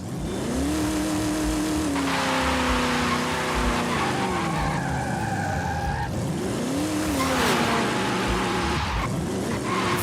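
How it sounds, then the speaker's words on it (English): A 1932 hot rod in a racing video game roars and revs as its tires squeal through long burnouts and skids, with engine pitch swooping up and down across repeated passes, loud and steady throughout. "Doing like 1932 burnouts."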